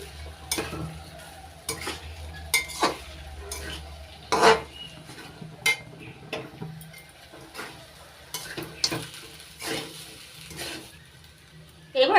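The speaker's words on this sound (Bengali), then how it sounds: "সাবুগুলো ভালো করে মিশিয়ে নিচ্ছি" Sago tossed and mixed with fried vegetables in a wok for a fasting-day sabu pulao, repeated scraping strokes of a spatula against the metal at an uneven rhythm over a light sizzle, close and without talk.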